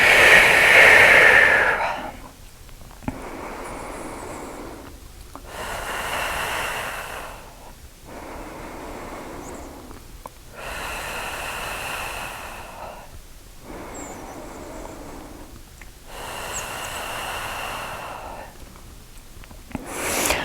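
Slow, deep breathing during a slow vinyasa yoga flow, heard close up as about six long, even breath cycles with soft airy inhales and exhales and short quiet pauses between them.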